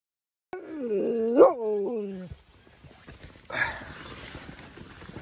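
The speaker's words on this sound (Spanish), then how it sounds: "Hola, perro orejón." A big-eared dog lets out a single drawn-out, wavering bark-howl up close, then falls silent, followed by fainter scuffling and background noise.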